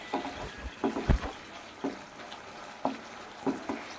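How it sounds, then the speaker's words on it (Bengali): A spoon scraping and tapping through drumstick (sajne data) curry in a pan, a Bengali home-style dish, in soft, irregular strokes spaced about a second apart over a quiet background. "তো বন্ধুরা দেখতেই পাচ্ছেন নাড়াচাড়া করে নিচ্ছি"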